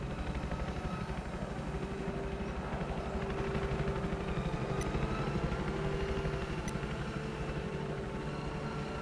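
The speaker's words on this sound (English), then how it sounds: "Incoming helo!" A helicopter approaches in the Battlefield 4 video game, its dense rotor chop throbbing steadily and growing slightly louder over nine seconds, with faint metallic pings overhead.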